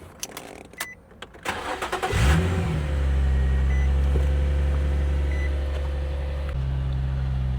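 A car engine cranks and catches, then settles into a steady, loud idle rumble close by, after a few clicks and rattles, outdoors at a dealer auction.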